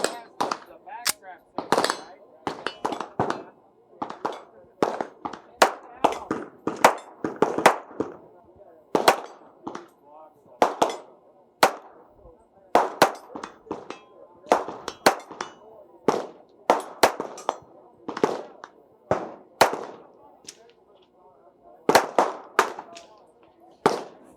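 Rapid single shots from a lightweight American Tactical polymer-frame 1911 pistol with a skeletonized upper at a SHOT Show range, sharp loud cracks fired in quick uneven strings with short pauses between.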